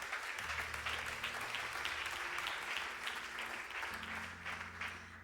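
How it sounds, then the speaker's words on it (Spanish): A church congregation bursts into sustained applause, dense clapping from many hands that holds steady from start to finish. "Dale aplauso a Dios."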